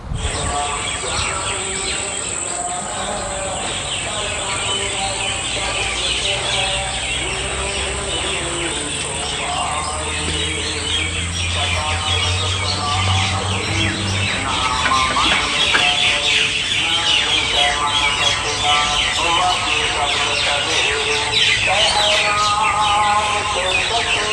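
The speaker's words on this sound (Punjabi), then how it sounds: "ਤੁਹਾਨੂੰ ਪੰਛੀਆਂ ਦੀ ਬਾਤ ਸੁਣਾਉਣੇ ਆ 2 ਮਿੰਟ ਤੁਸੀਂ ਉਹ ਸੁਣੋ" Many birds chirp and sing continuously in a dense outdoor chorus among planted trees in a village, overlapping calls layered over a steady hiss of insects, with no talking.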